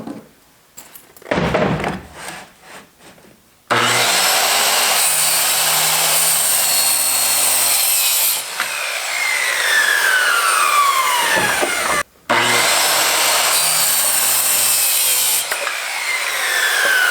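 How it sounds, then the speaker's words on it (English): Plywood being sawn into drawer fronts with a power saw, starting with a few short scraping rubs, then loud continuous cutting bursts with whining tone shifts and a brief pause midway, no talking. "I just finished cutting the front"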